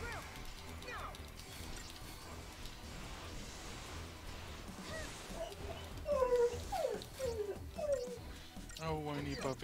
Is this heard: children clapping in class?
no